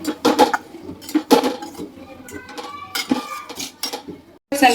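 Melting jaggery is stirred continuously in a pan over a low gas flame, making close, irregular scraping clinks and clanks in quick bursts.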